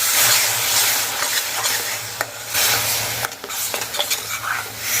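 Onion and tomato sizzle in a hot pan for a rajma gravy curry while a spoon stirs and scrapes, a steady close frying hiss with occasional clinks.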